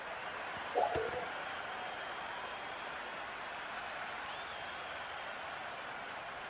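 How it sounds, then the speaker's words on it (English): A stadium crowd in the Cricket 26 video game roars in a steady, dense wash of cheering and applause that holds at an even level throughout, with a brief louder burst near the start. "The crowd is electric right now."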